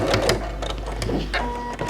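A sewing machine stitching bias tape onto a terry-cloth kitchen towel, running in a quick, steady mechanical chatter close up, with no talking.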